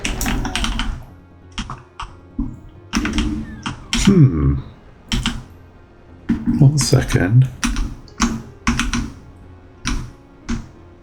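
Clacky computer keyboard keystrokes come in irregular bursts of sharp taps near the microphone during a PC game session, with a voice talking over some of them.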